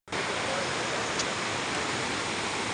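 Steady, full-band rush of the Bhavani river pouring over rocks near its source, close and continuous without a break, with no voices.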